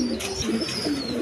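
A pair of Lahori Sirazi pigeons coo in short, close, repeated throaty notes, a brief soft burble with no talking.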